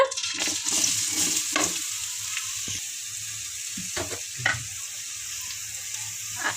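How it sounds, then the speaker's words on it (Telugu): Thinly sliced beetroot frying in hot oil in a pan, a steady close sizzle with brief scraping stirs throughout. "ఆయిల్ అయితే వేడైంది సన్నగా కట్ చేసిన బీట్రూట్"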